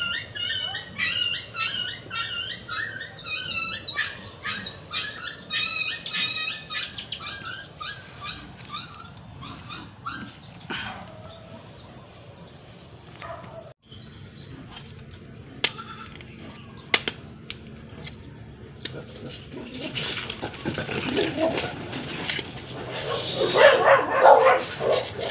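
Several dogs barking and howling outdoors, starting as faint, distant barks under a steady background hum and swelling near the end into louder, overlapping howls and yips.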